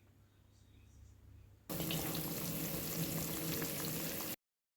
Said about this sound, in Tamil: இப்போ கொதிக்குது பாருங்கள்